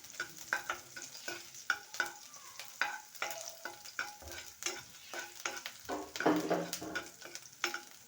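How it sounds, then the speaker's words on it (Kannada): Garlic deep-fries in oil, sizzling steadily in a pan while a utensil stirs and scrapes in quick, irregular clinks, close and fairly quiet, with no voices. "ಅದರಲ್ಲಿ ಬೆಳ್ಳುಳ್ಳಿ ಹಾಕಿ ಡೀಪಾಗಿ ಫ್ರೈ ಮಾಡ್ಕೊಳ್ಳಿ"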